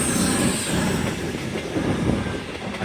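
A 5-car Class 221 Voyager diesel train pulls out of York station with a steady, loud rumble of engine and wheels, and a faint high squeal above it.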